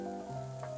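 Fennel sizzles in a hot pan as it is mixed for a lemon risotto, a soft, steady frying hiss with a faint tonal hum underneath, close but quiet.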